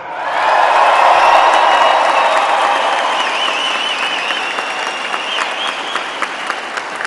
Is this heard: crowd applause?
yes